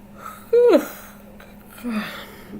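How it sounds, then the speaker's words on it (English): A single person yawns aloud during a late-night live chat, a drawn-out voiced yawn rising and falling over a faint steady hum, followed by a softer breathy exhale. "And I'm yawning, and I'm sorry for that."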